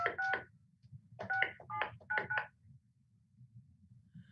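Touch-tone keypad dialing on a landline phone during a zoning and planning commission call: four quick bursts of dual tones in irregular groups, close and clear over a steady low hum, then the hum continues alone.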